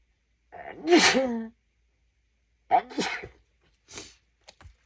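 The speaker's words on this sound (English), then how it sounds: "Oh, I'm going to sneeze." A person sneezes loudly and close by, twice, the first with a drawn-out voiced build-up. Softer breaths and small noises follow.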